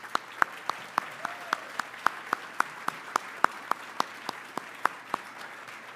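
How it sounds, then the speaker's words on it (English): A small round of applause at an annual awards luncheon for board members, heard as sparse, distinct individual claps spaced regularly and fairly close, faint overall, with no talking. "if you would please rise so that we can give you a round of applause."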